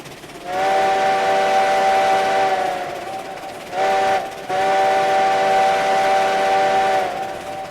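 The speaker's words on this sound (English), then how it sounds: "Sounds like a train whistle, that's for sure." A Heisler steam locomotive's whistle sounds in the video game RailRoads Online: two long, loud, chord-like blasts separated by a short break, tapering off at the end, with no talk.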